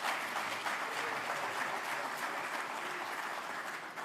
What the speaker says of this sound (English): Now would be a good time to applaud.